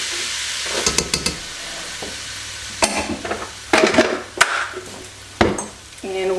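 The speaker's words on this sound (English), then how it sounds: "we're gonna add 2/3 of a cup of flour to that and whisk it in" Flour being whisked into melted butter for a make-ahead Thanksgiving dish: a run of quick scraping, clicking whisk strokes against the pan in bursts, close and fairly loud, with a faint sizzle beneath.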